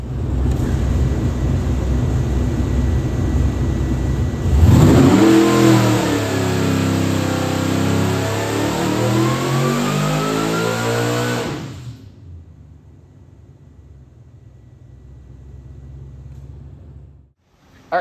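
A 2.9L Whipple-supercharged LS engine making over 1100 hp roars close and loud through a rising dyno pull with climbing supercharger whine, then drops back to a low rumbling idle before cutting off.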